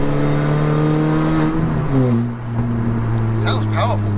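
A Skoda 1.6T car engine pulls hard on the Autobahn, its steady drone dipping through a gear change before climbing again, loud and close from inside the car with voices over it.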